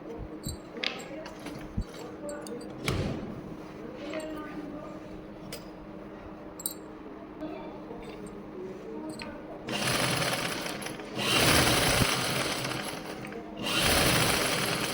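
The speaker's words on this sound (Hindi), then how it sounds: "यहाँ से फिर इतनी दूरी पर एक सिलाई और लगाएंगे" A sewing machine stitches a pocket into a salwar, running in several loud bursts of rapid whirring that start and stop, with quieter handling sounds between them.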